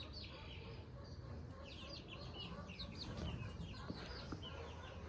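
Chickens cluck and chatter inside a wire-fenced transitional spot in a garden, a busy, fairly near flock sound running steadily over a noisy outdoor background.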